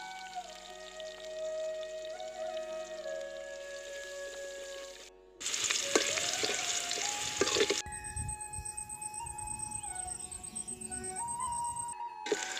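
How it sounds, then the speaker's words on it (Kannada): Onion and garlic drop into hot oil for a village-style curry, giving a steady crackling sizzle with stirring clatter that grows busier midway, close and fairly loud with no talking. "ಎಣ್ಣೆ ಕಾದಂತರ ಈರುಳ್ಳಿ ಬೆಳ್ಳುಳ್ಳಿ ಹಾಕಿ"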